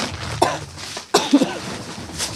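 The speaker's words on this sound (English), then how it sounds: "So I can cough in your nose." Two short, harsh coughs about a second apart, close to the microphone, with a quieter rasp in between.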